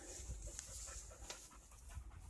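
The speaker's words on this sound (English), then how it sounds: "A dog." A dog panting near a walker on a countryside outing by Stonehenge, quick rhythmic breaths repeating steadily over faint outdoor background, with no talk.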